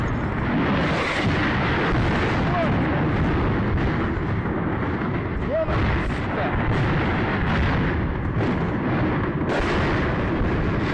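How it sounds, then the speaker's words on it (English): Rockets launching amid combat in the Ukraine war: a loud, continuous rumbling roar of heavy fire with several sharper blasts and surges standing out, dense and close with no pauses and no talking. "You now hear another rocket flying off."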